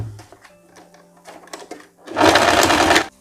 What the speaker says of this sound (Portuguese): Você vai passar agora e vai costurar.